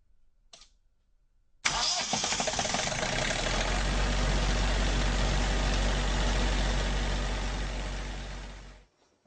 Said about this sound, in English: I'm no diesel mechanic, but I am capable of flipping the switch, and this thing just starts right up and gives us all the power that we need.